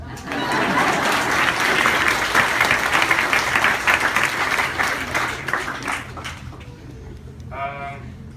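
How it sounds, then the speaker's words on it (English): A crowd applauds with steady, dense clapping that holds strong, then thins and fades toward the end. "You can clap"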